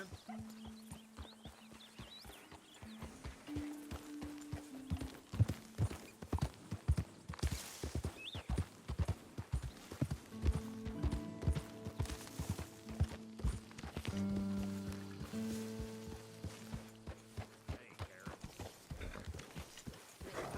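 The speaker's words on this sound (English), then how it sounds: "Careful with that horse, Arthur." Horse hooves clop steadily on the ground in the Red Dead Redemption 2 video game, rhythmic and close, mixed with game music tones and other in-game sounds.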